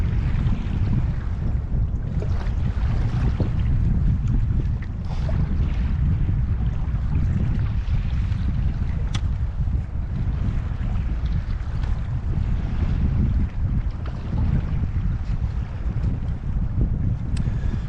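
Strong wind roars over a lake while canoeing on Lake Cootharaba, a loud, steady gusting rush buffeting the microphone with low rumble and water noise throughout.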